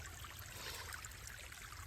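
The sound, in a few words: water trickling out of a hole in the rock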